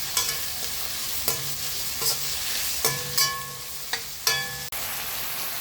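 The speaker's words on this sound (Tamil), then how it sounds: "கிண்டி விட்டுக்கணும் நல்லா." Chillies and curry leaves frying in a pan with a constant crackling sizzle, while a spoon scrapes and stirs in several brief, sharp strokes at irregular intervals.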